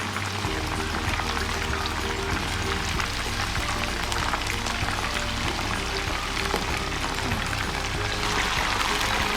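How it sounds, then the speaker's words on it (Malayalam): Chicken lollipops deep fry in hot oil on a medium flame, a steady, close, crackling sizzle like heavy rain that holds evenly throughout. "ഇപ്പോൾ നമ്മുടെ ലോളിപ്പ് കറക്റ്റായിട്ട് നല്ല ഫ്രൈ ആയി വന്നിട്ടുണ്ട്"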